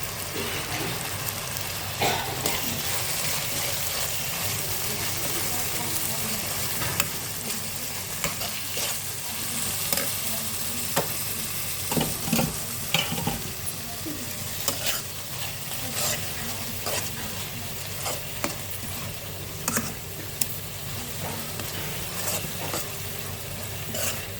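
Spices (salt, coriander powder, turmeric and crushed cumin) are stirred as they fry in a pan for dhaba-style dal tadka. A steady close sizzle runs throughout, with frequent spoon scrapes and clicks against the pan.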